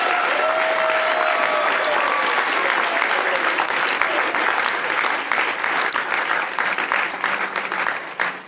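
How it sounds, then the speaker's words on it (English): Commencement crowd clapping and cheering in a large continuous wave for the full stretch, loud and dense, with a few whoops, easing slightly toward the end. "if you want to give them a shout out and some clap and some love"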